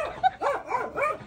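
A dog gives a quick run of three or four close, loud barks and yips in rapid succession, with a whimpering edge and no talk over it.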